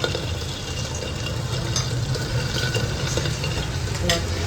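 Pabda fish, eggplant and bori fry in oil in a wok, making a loud, steady, close sizzling hiss that runs without a break.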